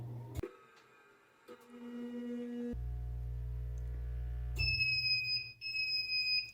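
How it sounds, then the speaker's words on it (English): A tire machine hums and whirs as it spins down, then sounds a series of clear electronic beeps as it finishes, near and fairly quiet with no talking. "when that stops spinning, it's going to beep 3 times."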